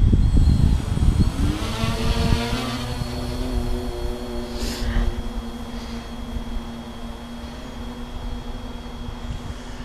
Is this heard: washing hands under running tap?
no